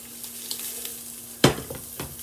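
Browned Italian sausage fries in a pot with a low steady sizzle, broken by one sharp clatter of a utensil midway and a softer knock near the end, with no voices.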